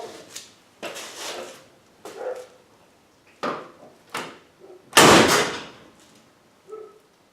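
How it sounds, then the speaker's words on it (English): Door of a 1971 Ford Mustang Boss 351 being opened and slammed repeatedly, a series of about eight close thuds and latch clunks, the last one loudest, with quiet gaps between them. "just slamming the door really flipping hard."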